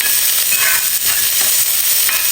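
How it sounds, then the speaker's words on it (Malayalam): Onions and curry leaves fry in a pan for Kerala kadala curry, giving a steady, close hiss of sizzling oil with faint stirring scrapes, heard alone with no talk. "അപ്പോൾ സവാളയൊക്കെ വായുന്ന ഒരു ഗോൾഡൻ നിറം ആയിട്ടുണ്ട്"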